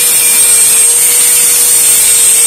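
A metal pick tip being ground by hand-held power tool, a loud, steady, high-pitched whine with a constant tonal ring that holds unbroken and close throughout.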